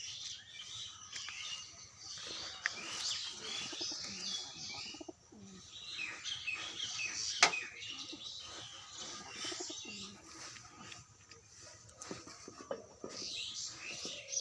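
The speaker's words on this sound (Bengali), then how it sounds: "এটা একটা পায়রা, এটাও রাজশাহী গিরিবাজ।" A white-eyed, crested Rajshahi giribaj pigeon coos softly at close range in low, repeated murmurs, with a few faint chirps and light rustling around it.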